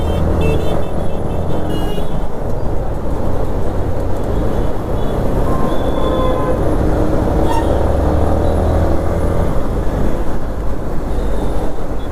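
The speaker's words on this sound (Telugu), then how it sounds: "ఈ మెయిన్ రోడ్లోకి వచ్చిన తర్వాత మొత్తం ట్రాఫిక్కే ఉంటుంది" Busy main-road traffic streams past continuously, a loud broadband roar of cars and heavier vehicles with passing swells and faint horn tones, heard from close by without speech.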